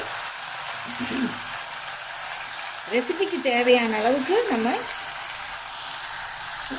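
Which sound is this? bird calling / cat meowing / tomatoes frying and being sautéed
tomatoes frying and being sautéed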